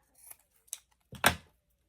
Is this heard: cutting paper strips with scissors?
yes